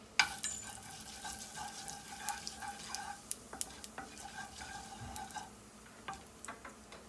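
Whole cumin seeds fry in hot oil with a faint, soft crackle and scattered small ticks and stirring clicks, quiet and close, with no voices.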